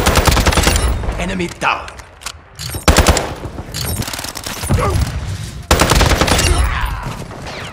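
Rapid automatic gunfire from Call of Duty Modern Warfare 2, loud bursts of rattling shots with brief pauses between them, while radio-style voice callouts speak over the combat.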